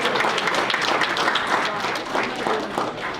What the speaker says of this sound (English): have a round of applause for Rich and Sharon from the servers from the Thorny Golf Club.